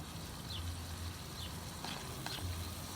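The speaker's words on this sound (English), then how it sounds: "And let that saute in that oil." Chopped onion sautés in hot oil for bhaji, giving a quiet, steady sizzle with faint stirring scrapes and light clinks of a utensil against the pan.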